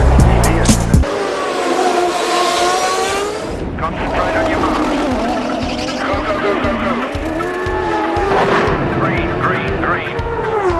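Ford-powered ChampCar World Series race cars scream past at high speed, engines whining and Doppler-shifting as they pass close by one after another, with a loud burst at the start and a voice talking over part of the roar.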